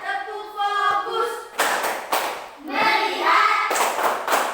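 Rhythmic hand clapping in a classroom as a class follows a teacher's clap pattern: sharp bursts of claps in short groups, alternating with a chanting voice between them.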